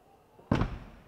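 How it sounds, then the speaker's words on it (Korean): The automatic front door of a Tesla Model X swings shut with a single short, heavy thud that cuts into a quiet background and then fades. "모델 X 같은 경우에는 운전석 도어와 조수석 도어도 자동으로 닫힙니다"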